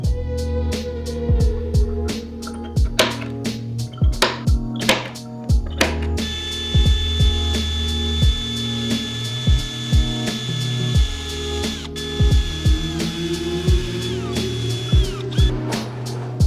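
A drill boring relief holes in a wooden piece for a wedged mortise-and-tenon plant shelf, a steady tool hum punctuated by many sharp clicks and knocks, close and loud.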